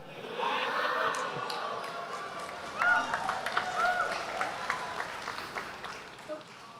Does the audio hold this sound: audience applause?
yes